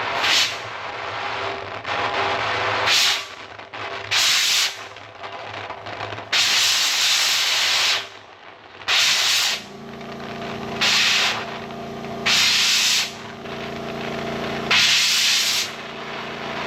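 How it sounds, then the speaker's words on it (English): Water spraying in repeated bursts to wash solder off the fuel tank of a 1959 Allis-Chalmers D-17 tractor, loud hissing blasts of a second or two separated by short pauses with a low hum underneath. "I'm gonna wash this solder off here."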